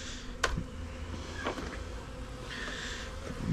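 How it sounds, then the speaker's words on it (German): Robber bees buzz and fly around small Apidea mating boxes, several passing close by in steady droning waves, with no talk. "Also alle Bienen, die hier rumfliegen, sind schon diese Räubertiere."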